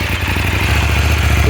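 A stock-exhaust 2024 KTM Duke 790 motorcycle engine running just after starting, a steady, loud, low throbbing pulse heard close up throughout.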